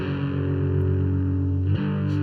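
Epiphone electric guitar through a Kemper amp simulator on a grunge preset: a thick, heavily distorted sustained chord rings loud and close, then cuts off and gives way to a quieter second strum near the end.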